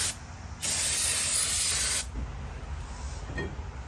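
Brake cleaner is sprayed onto a front brake rotor for a 2017–2022 Honda CR-V, one loud steady hiss lasting about a second and a half, then quieter soft handling noises.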